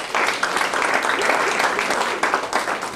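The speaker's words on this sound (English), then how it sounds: "Round of applause for our brave," Comedy club audience breaking into applause, loud close clapping that swells and pulses steadily across the whole span with a few whoops mixed in.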